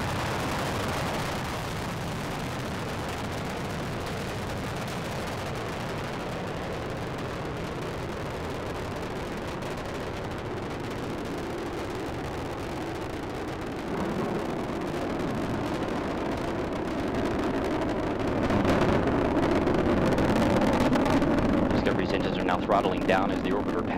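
Space Shuttle Discovery climbing toward orbit, a broad, distant, continuous rumble that swells louder toward the end, with a commentator's voice talking over it.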